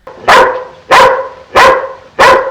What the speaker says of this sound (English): And Frank's dog.